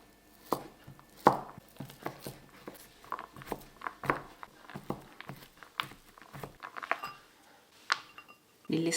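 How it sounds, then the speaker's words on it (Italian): A knife dices candied orange peel and candied citron on a board in quick, irregular chops, crisp sharp taps up close, some louder than others, with no voices. "50 g di arancia candita e 50 g di cedro candito. Lo taglio a dadini."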